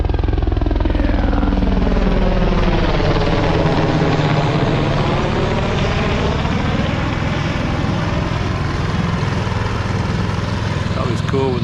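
A low-flying aircraft, likely a helicopter, passes overhead during a flyby above a small skiff at sea off La Jolla, its loud steady rotor or engine drone filling the whole stretch with no talk over it.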